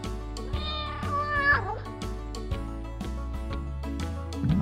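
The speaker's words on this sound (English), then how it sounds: "it's the orange cat" An orange cat meows clearly and close, a drawn-out rising and falling call over a light musical backing in a toddler learning cartoon.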